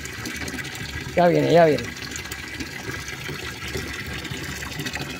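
Water pours briefly for a pet dog, a short splashing fill lasting under a second amid background noise, while a person speaks.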